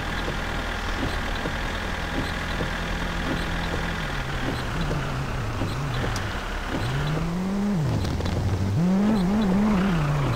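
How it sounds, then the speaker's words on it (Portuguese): In the video game My Summer Car, a car approaches along a road with a steady engine drone that rises and wavers as it nears, over continuous low rumbling. "Já tá vindo um carro aí, cara."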